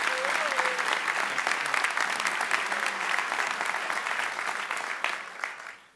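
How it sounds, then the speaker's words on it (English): Audience at a Nassau County Executive inauguration gives Senator Dean Skelos a sustained round of applause, dense steady clapping that tapers off at the end, with a brief tone early on. "let's give him another round of applause."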